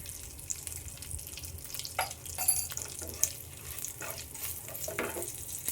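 Red chili powder and turmeric sizzling in hot oil in a pan, a steady faint frying hiss with a few soft stirring scrapes and clinks throughout, no voices.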